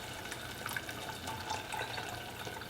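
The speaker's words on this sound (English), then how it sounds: "I'm just gonna add a little bit of water" Water pours into a pot of Tex-Mex chili in a soft, steady trickle, faint and close, with light splashy flickers and no talking.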